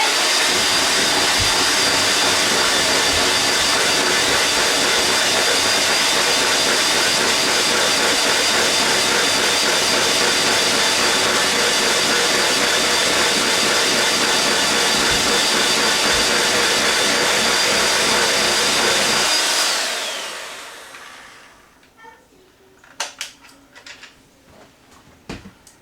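An electric mixer whirring steadily through chocolate cinnamon cake batter, a loud continuous drone that runs for about twenty seconds and then winds down, followed by a few faint clicks and knocks.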